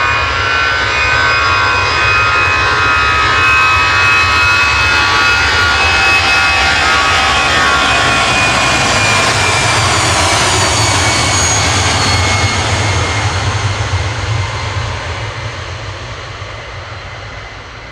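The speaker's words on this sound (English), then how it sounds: "Eurowings on the roll to Düsseldorf." A Eurowings jet airliner roars through its takeoff roll at Manchester Airport, bound for Düsseldorf. The loud, steady engine thunder holds for most of the run, then slowly fades as the plane moves away.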